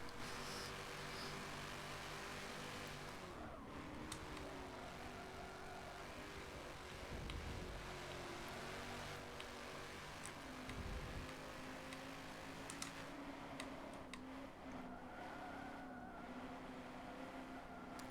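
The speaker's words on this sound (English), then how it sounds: "Oh, it sounds so tragic at the low revs. A V8 revving." A V8 car engine revving at low revs in the racing game Forza 7, a steady rumbling drone with a couple of rises in pitch, continuous throughout and alone.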